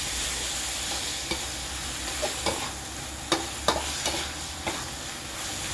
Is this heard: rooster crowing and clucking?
no